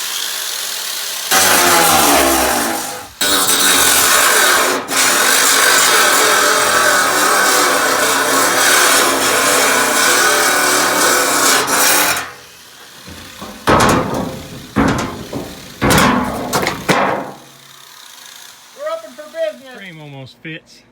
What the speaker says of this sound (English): I'm gonna try this little wheat grinder and see if I can get it to cut the rest of the way.